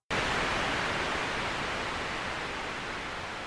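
Dubstep riser synth patch in Ableton with a 32-second release, heard as a sudden, steady wash of loud broadband noise that holds with no clear pitch and no voices.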